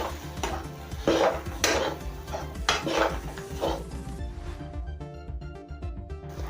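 Spoon stirring a faare mixture with chopped coriander in a metal pan, with repeated scraping clinks and soft sizzle-like rustling, alone and fairly close.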